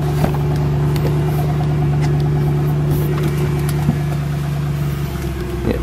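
A Mercedes C63 idles close by, its deep, even engine rumble and steady low drone running continuously with no voices over it.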